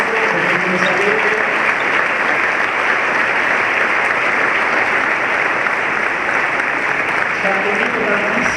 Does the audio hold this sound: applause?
yes